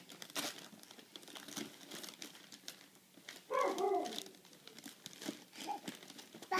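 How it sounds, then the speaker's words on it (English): Wrapping paper being torn and crumpled off a piano, a run of irregular crinkles and rustles with a louder ripping burst partway through, close by, with faint bird calls in the background. "take this wrapping paper and tear it off"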